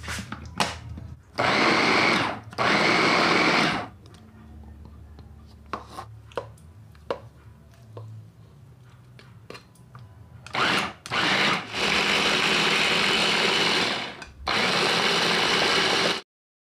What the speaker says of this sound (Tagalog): Ito yung ating food processor.